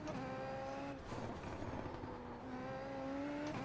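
Super Formula race car engine howling at steady high revs around the Nordschleife in iRacing, a continuous loud whine with harmonics that dips briefly near one second as the throttle eases before braking.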